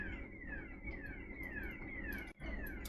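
An electronic alarm going off indoors, a steady repeating chirping, sweeping tone at moderate-to-faint level, briefly cut near the end.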